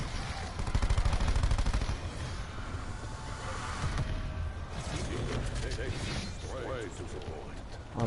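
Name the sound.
gunfire from shooting in a video game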